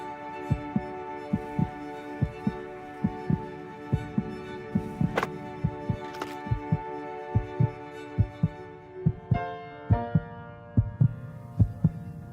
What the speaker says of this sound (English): This song was created with heartbeats of children in need.